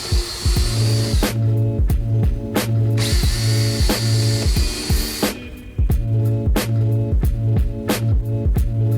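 A power drill whirs in short, repeated bursts into wood, stopping and restarting with sharp clicks between runs, loud and close.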